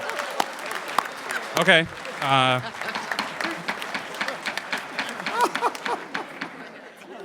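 Applause breaks out from an audience at a public meeting, a short burst of clapping mixed with crowd noise and murmuring, with people talking over and around it.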